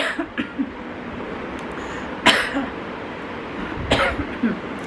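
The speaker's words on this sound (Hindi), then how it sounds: "अभी भी मेरी खांसी उतनी ज़्यादा ठीक नहीं हुई है" Two sharp, hoarse coughs from a person recovering from COVID stand out from a steady background hiss, spaced a couple of seconds apart, with a few fainter throaty sounds in between.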